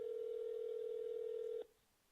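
A single steady telephone tone sounds loud and continuous on a call-in show line while callers are reconnected, then cuts off abruptly, leaving faint line hiss.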